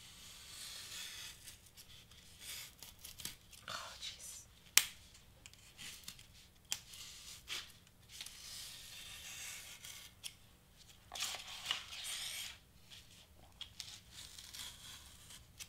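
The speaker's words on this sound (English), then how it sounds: "Let's cut out this piece." A piece of a Cricut-cut Snoopy Christmas prop is cut out by hand with scissors, giving faint, close, irregular snips and paper rustles in a quiet room.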